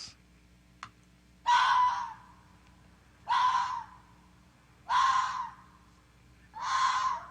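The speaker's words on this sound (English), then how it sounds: "A guy in Canada recorded a fox sitting at the end of his driveway, staring back at him, and that was the noise he was making." A fox sitting at the end of a driveway in Canada gives four harsh, loud, raspy screams, evenly spaced about a second and a half apart, alone over a low background hum.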